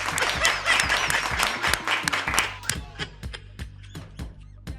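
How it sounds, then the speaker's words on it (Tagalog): People clap in sharp, uneven bursts, close and distinct, with a loud patch of mixed clapping and hubbub that thins into scattered individual claps. "Palakpak."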